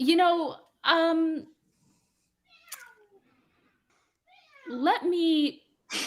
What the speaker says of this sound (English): He's freaking out because he really wants a treat.